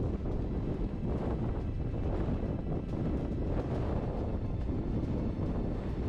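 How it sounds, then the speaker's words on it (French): Strong wind gusts across open countryside in southern France and buffets the microphone with a continuous low roar. It is loud and unbroken, with no voices. "On voit et on entend bien le vent sur cette partie dégagée."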